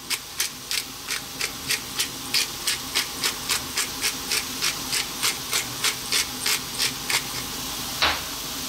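Black pepper cranked through a grinder while cooking a beef mushroom pasta sauce, a steady run of about twenty quick, close, gritty rasping strokes, no talking.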